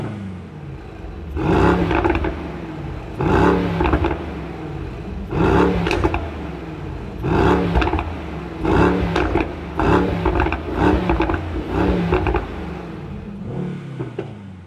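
A Mercedes-AMG GT63S saloon in race mode, its engine and exhaust revving loudly in repeated bursts about every two seconds, each swelling then dropping back, with no talking.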